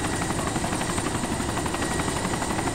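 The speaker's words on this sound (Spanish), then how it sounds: "El helicóptero despega solo." A helicopter lifting off in the military game ARMA 2, a loud, close, continuous rotor thrum with rapid blade chop throughout, no talk over it.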